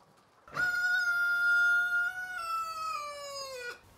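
A rooster crows in a farmyard hen enclosure, one long loud cock-a-doodle-doo lasting about three seconds, close and clear with no talk over it.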